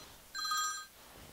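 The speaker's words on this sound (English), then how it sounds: "Sorry, phone call." A telephone rings once with a brief, bright electronic trill, close and clear over a quiet background, with no talking during the ring.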